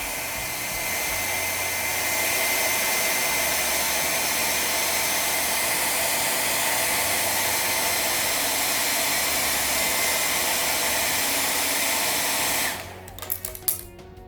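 A hair dryer blows steadily on a structure built of sticks, a loud continuous whooshing drone that runs for most of the time and then cuts off, leaving a few faint clatters.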